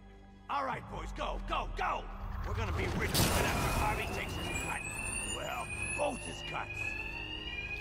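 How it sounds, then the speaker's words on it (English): Alarm ringing steadily inside a bank in the video game Batman Arkham Knight, a continuous electronic tone running under game sounds and frequent overlapping talk. "Covered by the noise of the alarm."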